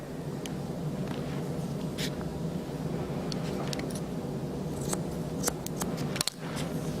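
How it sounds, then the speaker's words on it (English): Curved hair shears snip through hair at close range, with a few crisp, scattered cutting sounds over a low steady background hiss. "you can use these curved shears for your perimeter line"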